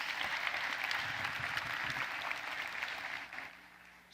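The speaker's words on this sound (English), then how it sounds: "just a huge round of applause to all of those startups and to all of the judges as well" Clapping from a conference audience for the startups and judges on a center stage, a fairly faint, dense wash of applause lasting a few seconds and dropping away near the end.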